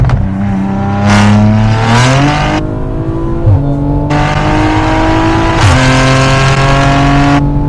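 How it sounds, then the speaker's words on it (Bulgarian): An Audi RS car accelerates hard, its engine note climbing loudly through the revs with brief drops at each upshift, then pulling again steadily to the end. "да наритаме колата и да видим как върви"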